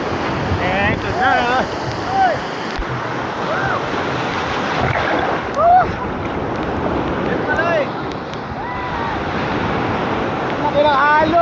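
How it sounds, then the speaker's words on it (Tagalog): Big ocean waves surge and crash near the shore at a Gen Nakar camp, with a continuous roar of surf and heavy wind buffeting the microphone. Excited voices shout over the water now and then. "Laki ng alon!"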